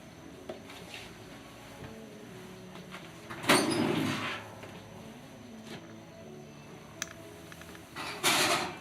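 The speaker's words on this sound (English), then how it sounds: "I'm going to stick it in the oven." An oven door opening and closing as a lidded pot of beef braise goes in, with a short scraping slide and a solid thump midway, a light click later, and a second bump near the end, all at moderate distance with no talk.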